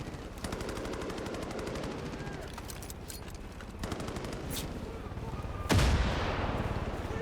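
Video game gunfire rattles in continuous rapid machine-gun bursts, loud and dense throughout, with a heavier blast near the end.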